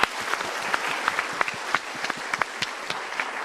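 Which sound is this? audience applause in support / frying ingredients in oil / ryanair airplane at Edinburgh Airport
audience applause in support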